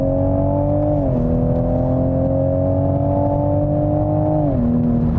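Toyota Supra GR six-cylinder engine pulling steadily while driving, a loud continuous harmonic drone that holds its pitch, steps down briefly around one second and again near the end, with no talk over it.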